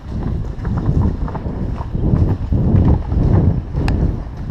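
Horses canter together at a gentle gallop, a dense, close drumming of hooves on soft ground with a steady rolling rhythm and faint voices in the background.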